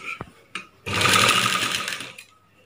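Two short clicks come first, then a sewing machine stitching a neck design runs in one fast, steady burst of about a second before stopping.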